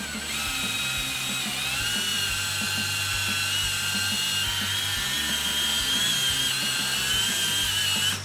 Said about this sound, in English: Control the speed with our trigger and polish it out.